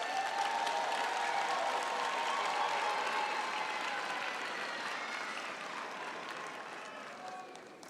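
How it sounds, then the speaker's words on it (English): A graduation audience applauds the teaching staff in a large hall, dense sustained clapping that gradually fades toward the end, a few voices faintly mixed in. "please turn to them and please give them a hand of applause"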